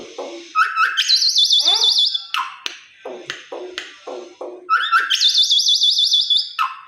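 A pet mynah bird kept at home chatters loudly and close by. Clicks and rising whistles are followed by a warbling trill, then a string of quick chirps and taps, and the whistle-trill phrase repeats, with no voices.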